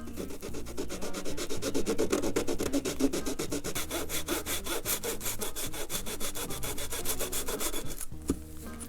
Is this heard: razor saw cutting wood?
yes